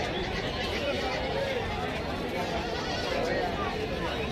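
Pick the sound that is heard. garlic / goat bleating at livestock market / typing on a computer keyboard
goat bleating at livestock market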